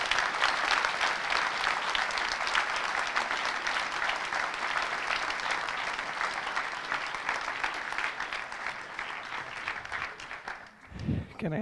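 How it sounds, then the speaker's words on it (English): An audience applauds panel speakers at a debate on Europe's growth, a long, even clapping that fades near the end as a voice begins. "So big round of applause for these guys."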